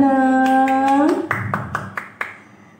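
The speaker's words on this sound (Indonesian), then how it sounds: "Tepuk tangan dong." A short burst of clapping from a school audience for competition winners, several sharp claps following a sustained tone at the start, fading out.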